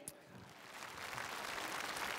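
Audience applause at the 2012 Spring Festival Gala, welcoming magician Liu Qian: a faint, steady patter of clapping from a large crowd that builds slightly and holds.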